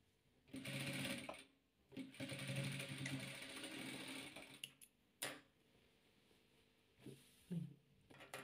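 Stitching patchwork fabric on a sewing machine, with several short runs of the motor broken by brief stops and faint handling knocks.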